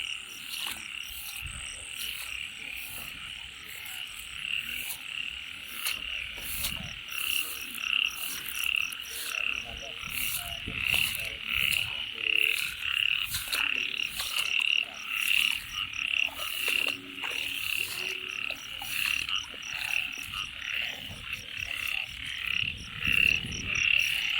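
A dense chorus of frogs croaks steadily through the night outdoors during a frog-spotting outing, with overlapping calls pulsing continuously and no letup.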